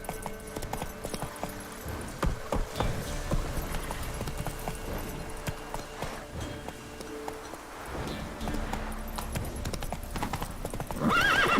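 Hooves of the horse Roach pound in a rapid, continuous gallop in the video game The Witcher 3, loud and close, with a whinny near the end.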